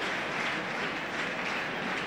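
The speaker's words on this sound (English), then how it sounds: "And the applause goes around the ground for the 100 partnership." A cricket crowd at Sharjah during a 1989 India versus Pakistan Champions Trophy match applauds a 100 partnership, a steady, distant wash of clapping spread around the ground, fairly faint and even throughout.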